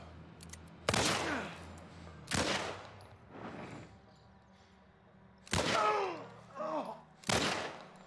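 Shotgun blasts from The Last of Us Remake: five loud, sharp reports spaced irregularly over several seconds, each with a short ringing tail, over quiet background.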